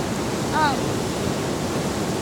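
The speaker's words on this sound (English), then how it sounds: "these waves are harmless" Ocean waves at La Jolla beach produce a steady broad wash of surf, constant and fairly loud, with a brief faint chirp briefly rising over it.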